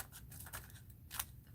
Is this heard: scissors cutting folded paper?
yes